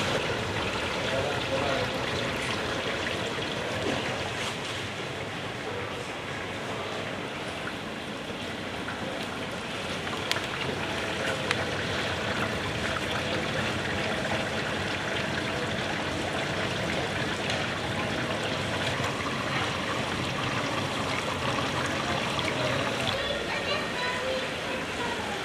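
Water sprays steadily from the lower spray arm inside an Electrolux ESL 46500 R built-in dishwasher, a continuous even hiss and rush of water that holds without pause for about 25 seconds.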